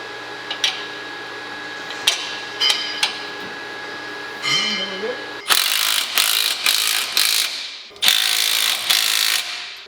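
Bursts of rapid ratchet clicking as traction bar bolts are tightened on a bolt-on traction bar install, with short metallic clinks between runs, close and fairly loud, growing denser toward the end.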